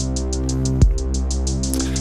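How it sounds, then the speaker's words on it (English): Synthesizer bass under a looping drum pattern, steady bright hi-hat style hits repeating about every quarter second, deep sustained bass tones underneath and a single low thump partway through, playing alone with no voices. "just make a synthesizer bass and a drum loop"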